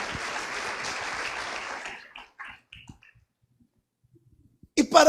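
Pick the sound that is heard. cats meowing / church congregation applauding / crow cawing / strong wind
church congregation applauding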